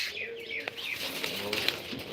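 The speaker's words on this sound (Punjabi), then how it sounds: "ਕਬੂਤਰ ਥੋੜਾ ਜ਼ਿਆਦਾ ਉੱਡ ਰਹੇ ਨੇ" Racing pigeons take off and circle on a cold day, their flapping wings giving soft fluttering bursts with a few faint chirps and coos over quiet background hiss.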